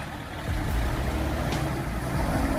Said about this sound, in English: a powerful truck loaded to the brim, battling through a treacherous, mud-filled road deep in the countryside